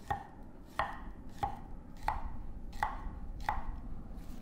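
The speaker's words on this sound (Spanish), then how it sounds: "Laminamos 5 o 6 ajos." A knife slices garlic cloves on a cutting board for marinated anchovies: six crisp, evenly spaced strikes, each roughly three-quarters of a second apart, close and clear over a soft background hiss.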